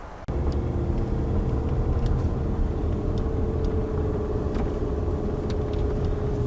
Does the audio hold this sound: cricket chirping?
no